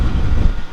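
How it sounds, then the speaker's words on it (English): Steady low rumbling wind outdoors during a ride through a neighborhood, buffeting close and loud, with no voices. "It's windy."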